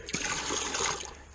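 Water is dumped from a bucket in one quick, loud gushing splash that washes out and trails off into a brief trickle.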